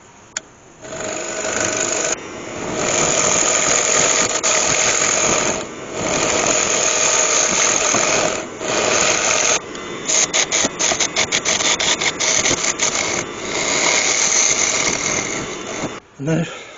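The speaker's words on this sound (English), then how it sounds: "From there to there I can do while the lathe is spinning, which will be quite easy." Wood lathe spinning a one-off piece of iron red wood, a steady whirring drone broken by several brief pauses and bursts of contact noise from sanding or cutting, loud and close throughout.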